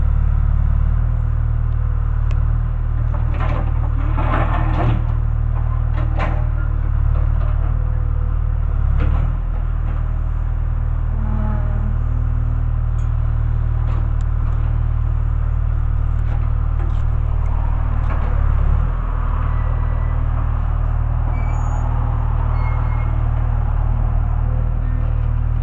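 A backhoe grinds and rumbles steadily through a residential sidewalk tear-out, with low engine drone throughout and intermittent clunks and scrapes of concrete and roots being broken up nearby.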